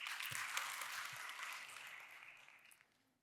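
An audience claps at a speaking event on brand image. The applause is dense and fairly distant, holds for a couple of seconds, then thins and fades out. No one speaks.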